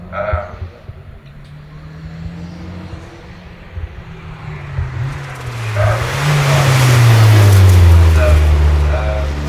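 A turbocharged race car runs on the Curborough sprint course. The engine note builds and revs up loudly, nearing and then roaring past, while a commentator talks over the early part.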